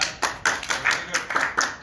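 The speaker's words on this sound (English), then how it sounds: "these guys deserve a high round of applause" A small audience at a Bordeaux wine masterclass gives a short burst of clapping, close and uneven, with several sharp hand claps over under two seconds.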